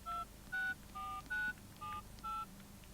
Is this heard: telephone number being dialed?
yes